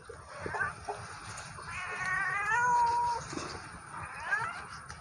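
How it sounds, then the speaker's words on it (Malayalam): A kitten cries out in a series of thin, drawn-out meows in a home kitchen during cooking, moderately close, with quiet background noise and no talk. "എൻ്റെ പൂച്ചക്കുട്ടി ഇങ്ങനെ കരയുന്നു ഗൈസ്"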